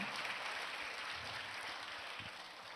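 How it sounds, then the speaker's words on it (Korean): Congregation applauding after a baptism at a Christmas Day church service, an even wash of clapping at moderate volume that slowly fades toward the end. "우리 한번 뜨겁게 박수 한번 해주시면"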